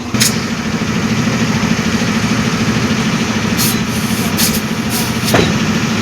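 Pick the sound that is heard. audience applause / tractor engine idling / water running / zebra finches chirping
tractor engine idling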